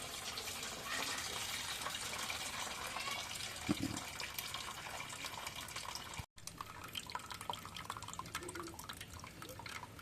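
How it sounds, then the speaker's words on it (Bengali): Hot water drains from a pot after cooking rice with ash gourd, a soft continuous trickling and dripping stream at moderate distance, with a brief interruption midway before the flow resumes. "গরম পানিগুলো ফেলাই দিই"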